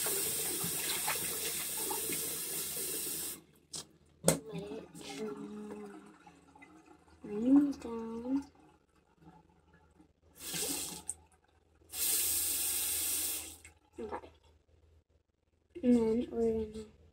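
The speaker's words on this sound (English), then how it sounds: "I'm gonna turn on the water really low, like that much." Water runs from a bathroom sink faucet in short bursts, hissing brightly on and off between stretches of a person talking quietly nearby.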